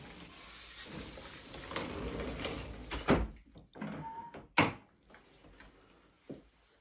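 A WDS SL60 sliding terrace door with a three-chamber profile and double energy-saving glazing is opened, giving a quiet run of rolling and scraping followed by a few sharp clacks and thumps of the latch and frame, with no talk.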